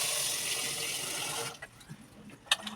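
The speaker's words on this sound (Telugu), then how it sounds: "ఇంక ఉసిరికాయలు అయితే శుభ్రంగా కడిగేసుకోవాలి" Indian gooseberries (amla) being washed in water, a rushing stream from a tap that cuts off halfway, followed by soft splashes and a clink of the fruit in a bowl; no talking.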